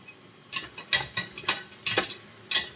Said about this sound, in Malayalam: ഇനി അതിൻ്റെ ആ ഒരു പച്ചമുളകൊക്കെ മാറുന്നത് വരെ നന്നായിട്ടൊന്ന് വഴറ്റാം.